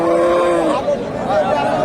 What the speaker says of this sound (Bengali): জার্সি জাতের একটা সার গরু দেখতেছি